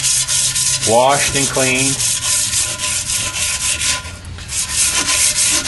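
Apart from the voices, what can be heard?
scuffing a chrome wheel barrel surface with sandpaper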